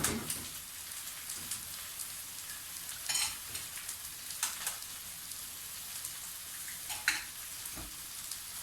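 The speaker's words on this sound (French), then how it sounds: "Battre les œufs avec du safran des Indes." Eggs beaten with turmeric on a plate give a steady wet, crackling patter with a few brighter clicks of utensil on the plate, close and continuous with no voices.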